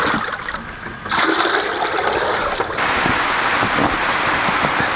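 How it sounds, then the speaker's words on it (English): Heavy rain pounding on a plastic pond liner outdoors, a dense steady hiss that swells louder after the first second and holds through to the end. "you usually can't hear over the rain hitting the plastic"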